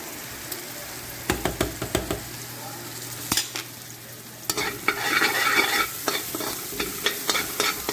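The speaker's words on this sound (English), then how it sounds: "So after about a minute of cooking down this here now, we're going to start adding the chicken piece by piece." Chicken biriyani being cooked on a stovetop beside a pot of boiling basmati rice, giving a steady sizzle with frequent sharp clinks and scrapes of stirring against the pot, close and fairly loud, with no talking.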